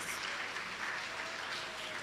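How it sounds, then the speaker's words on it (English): Applause from the audience at a retirees' dinner honoring a retiree, a steady, fairly soft wash of clapping that fills the whole moment without pause. "Let us give Mrs. Anne Silly Emmanuel a round of applause."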